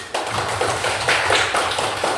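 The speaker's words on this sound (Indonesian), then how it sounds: "sekali lagi tepuk tangan anak-anak" Primary-school children in a classroom clap their hands together, a close, loud series of roughly rhythmic claps repeating evenly for a couple of seconds with no talking.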